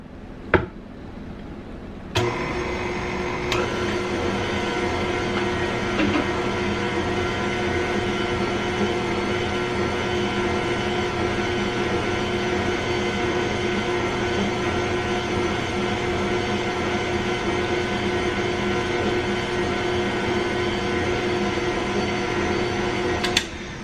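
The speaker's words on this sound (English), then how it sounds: "we're going to let it stir for about another 30 seconds" Stand mixer stirring apple cinnamon pancake batter: a steady motor whine and hum runs continuously for over twenty seconds, starting after a brief clack and ending with another small knock.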